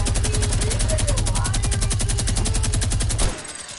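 Gunfire from a PS4 video game rattles out as a fast, unbroken automatic burst lasting about three seconds. It stops abruptly and leaves only quiet background.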